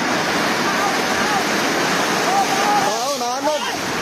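Rushing floodwater from a rain-swollen river surging through a collapsed dike, a loud continuous roar throughout, with a voice breaking in over it near the end.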